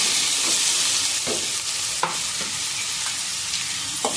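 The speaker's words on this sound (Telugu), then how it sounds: "తర్వాత క్యారెట్ వేసుకుందాం." Carrots for carrot halwa sizzle steadily in a pan, and a spoon scrapes and taps against the metal every so often; nobody speaks.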